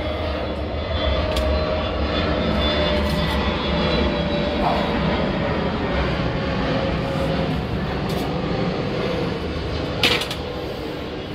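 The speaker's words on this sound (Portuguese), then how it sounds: "Um avião passando, logo após eu irei falar." A fixed-wing airplane drones steadily overhead during outdoor ceramic tiling work, a broad continuous engine roar holding loud for the whole stretch with a faint click near the end.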